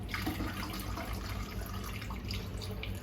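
Coconut water pours in a steady, close stream, a continuous liquid splashing and trickling that runs the whole time without any talking.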